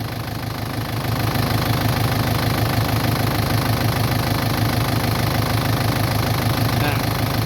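The diesel engine of an Isuzu D-Max pickup with 279,172 km idles loudly and steadily with a fast, even knocking rhythm throughout, rising slightly in level after the first second.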